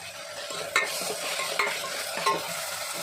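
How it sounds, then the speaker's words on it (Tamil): Tomatoes and onions sauté in a hot pan, giving a loud, steady sizzle broken by three quick stirring scrapes, close up and with no voices. "இப்போ தக்காளி போட்டு சுருளாக வதங்கணும்."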